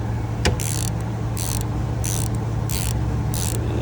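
Ratchet wrench clicking away on the 13 mm caliper bolts of a Ford Transit during a brake job, with several evenly spaced bursts of ratcheting over a steady low mechanical hum.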